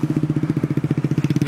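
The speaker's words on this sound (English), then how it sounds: "check out this guy's bike." A motorcycle engine runs nearby at a steady idle, with an even, rapid thumping pulse that stays loud and close throughout.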